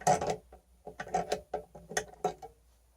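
Needle nose pliers work a bolt on a small metal tool, giving a run of close, crisp metallic clicks and scrapes in short irregular bursts with brief pauses between them.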